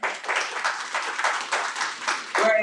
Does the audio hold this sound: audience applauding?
yes